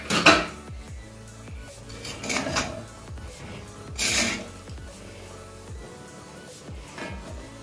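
Clattering metal pot lid set onto a cooking pot of boiling fish, several sharp clanks and scrapes, one loud strike near the start and more clinks spread through, close and without talk.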